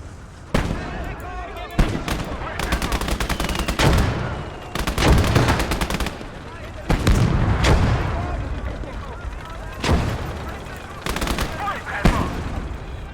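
Mortars and other artillery fire in a repeated rapid barrage on a battlefield in the game Legion of the Damned, loud sharp booms and cracks in bursts with brief gaps between them.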